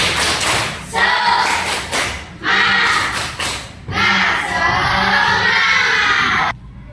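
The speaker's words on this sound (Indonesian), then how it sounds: "Tepuk semangat." A classroom of students performs the tepuk semangat clapping cheer, bursts of loud rhythmic group clapping and chanting voices separated by brief pauses, ending abruptly.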